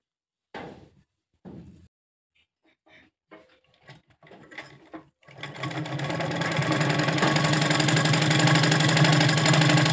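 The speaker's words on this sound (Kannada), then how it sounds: "ನಾನೀಗ 2 ಹೊಲಿಗೆ ಹಾಕ್ಕೊಳ್ತಾ ಇದ್ದೀನಿ" A sewing machine stitching cotton cloth for a mat, starting after a few soft handling knocks and clicks, then running in a steady, continuous whir close by for several seconds.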